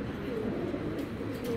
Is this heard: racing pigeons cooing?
yes